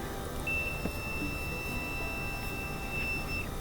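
A multimeter set to continuity and touched to the contacts of a Whirlpool dryer's flame sensor gives one steady high beep that holds for about three seconds over a quiet background.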